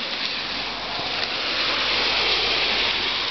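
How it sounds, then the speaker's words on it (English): Heavy rain pours down outdoors in a steady, dense hiss that stays loud and unbroken throughout, with no voices heard. "Oh my God, please stop raining."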